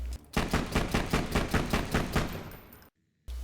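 In Borderlands 2, the Gub pistol fires a rapid, even string of about ten loud shots, then falls briefly silent before the sound resumes.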